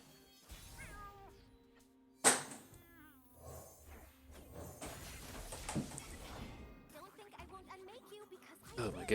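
Cartoonish cat meows from the Path of Champions card game, several sharp rising mews repeating over musical game sound effects, with a loud crash partway through and more meowing near the end.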